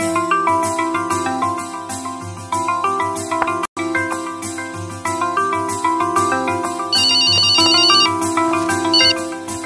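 A phone ringtone plays loud and close as a bright, repeating electronic melody, pausing for an instant partway through, then carrying on with higher chiming notes near the end.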